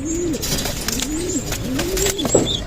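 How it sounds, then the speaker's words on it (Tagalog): Pigeons in a loft coo in repeated low rolling phrases, three or four close calls in a row, with faint higher chirps above. "Ay ito mga kalapatids oh."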